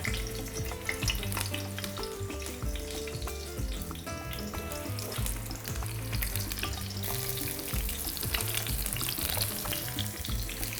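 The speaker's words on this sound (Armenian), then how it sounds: "Շատ արագ սմբուկի շերտեր ենք դնում, որ տապակվի" Eggplant slices fry in a pan with a steady, dense sizzle that crackles throughout, close and uninterrupted, with no voices.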